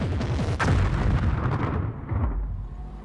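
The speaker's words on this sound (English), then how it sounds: "German artillery and rocket launchers pound the American defenses." German artillery and rocket launcher fire pounds American defenses in a dense, continuous barrage of heavy booms and blasts, loud and rumbling with overlapping impacts.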